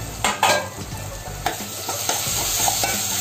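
Onion cooking in a pan over low heat while being stirred, a sizzling bed broken by several sharp spatula scrapes and knocks against the pan, close and loud.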